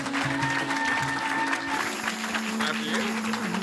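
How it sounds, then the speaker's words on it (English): An audience at an awards ceremony claps continuously and fairly loudly, with a steady tone and some music running underneath the applause. "Please give them a round of applause."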